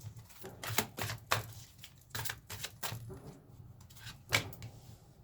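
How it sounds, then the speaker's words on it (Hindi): Tarot cards being shuffled: a series of brisk, close riffling and flicking bursts in irregular rhythm, fairly quiet, with no talk during the shuffling. "जब तक मैं कार्ड शफल कर रही हूँ"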